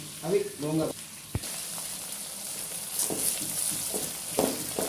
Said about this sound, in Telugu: ఎండుమిరపకాయలు ఏముంది ఎంతసేపు తొందరగానే వేగిపోతాయి